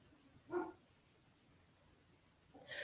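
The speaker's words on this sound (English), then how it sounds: "But the other dogs are barking, so that makes me think somebody's walking." Neighborhood dogs barking in the distance, two faint, brief barks separated by a couple of seconds of quiet background.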